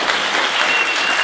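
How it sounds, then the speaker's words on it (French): A comedy show audience applauds, with dense, steady clapping filling the whole short stretch and no voices rising above it. "est-ce que c'est rapport au fait qu'ils applaudissent tous mes échecs?"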